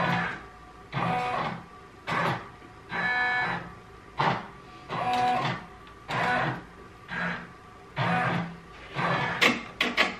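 Embroidery machine tracing the outline of a design on a sweatshirt sleeve, moving in repeated short whirring bursts with brief pauses between them, close and clear with no talking.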